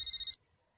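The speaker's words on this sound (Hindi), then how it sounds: "फोन आ रहा है पुलिस का होगा।" A phone's electronic ringtone sounds close by with a bright, tonal chime, then cuts off abruptly after a fraction of a second, leaving near silence.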